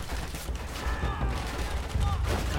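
Enemy gunfire in the video game Call of Duty: World at War on Hardened difficulty, with dense rattling shots and mechanical clatter against boxes, loud and continuous, and players talking over it.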